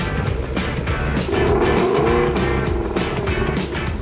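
A Ford Mustang GT 5.0 pulls away at the start of a test drive, its V8 engine loud and close, rumbling and rising in pitch through the short run, no talking over it.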